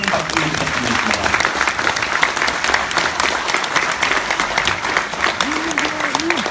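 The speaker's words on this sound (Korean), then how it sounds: "다시 한번 큰 박수 부탁드리겠습니다" Applause follows a keynote speech at a Korean policy forum, a full, sustained crowd clapping throughout with a voice speaking faintly underneath.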